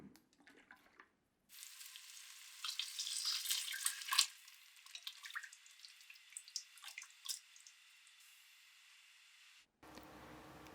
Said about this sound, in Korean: 잘 볶아진 커리 페이스트를 냄비로 옮겨 담고 코코넛 밀크를 잘 흔들어서 넣어요.